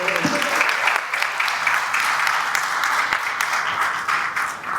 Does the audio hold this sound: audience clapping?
yes